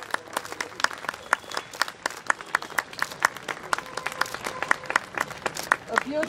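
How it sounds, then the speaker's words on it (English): Applause from a modest audience at a souvenir release ceremony, sparse, distinct handclaps in an uneven patter that keeps on steadily at close range. "Please join your hands to clap for the release of this souvenir today."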